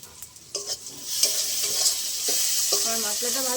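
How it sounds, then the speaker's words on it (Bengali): Spice paste for a fish curry fries in a pan, starting with a few scrapes and clinks, then swelling into a loud, steady sizzle with stirring strokes on top. "আমার মশলাটা ভালো ভাজা হয়ে গেছে।"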